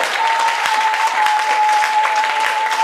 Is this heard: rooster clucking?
no